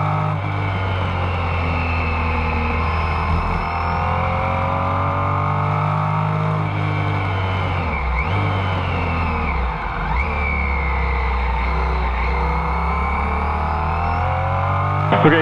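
Race cars including a 1969 Porsche 917K coming onto the pit straight at the 2015 Porsche Rennsport Reunion: loud, continuous engine roar with rising and falling pitch as the cars accelerate and pass, heard without speech.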